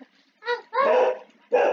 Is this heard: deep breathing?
no